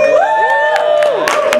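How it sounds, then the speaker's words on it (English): An audience at a Vermont climate-justice movement gathering cheers, whoops and claps loudly and continuously, with voices shouting over the crowd noise. "maybe we could do like a quick cheer and round of applause for everybody at the Vermont Workers Center"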